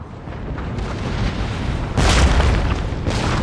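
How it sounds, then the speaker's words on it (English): Cannon fire from an Empire: Total War battle: a steady rumbling barrage of booms with a louder, denser burst about two seconds in, continuing without talk. "Okay, there's some firing going on."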